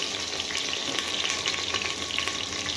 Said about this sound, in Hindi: ऑयल गुस्सा कर गया है क्योंकि बहुत गर्म था, और इसको हमें मिक्स कर लेना है।